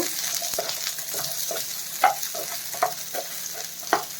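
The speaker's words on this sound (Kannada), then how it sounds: "ಈಗ ಇದನ್ನು ಚೆನ್ನಾಗಿ ಫ್ರೈ ಮಾಡ್ಕೊಬೇಕು" Garlic frying in a pan for stuffed ridge gourd makes a steady close sizzle, with a spoon stirring and scraping against the pan in regular strokes.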